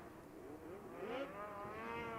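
Snowmobile engines at a championship snowmobile derby, racing around an oval track into the turns, produce a steady high-pitched whine that rises and falls as the sleds pass and accelerate, fairly continuous and moderately distant.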